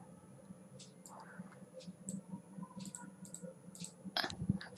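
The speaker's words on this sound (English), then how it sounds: "Just simply click this button." A computer mouse clicking in Microsoft Word 2010 as a button is pressed, heard as a few light, close clicks spread over a quiet room background, ending in a louder cluster.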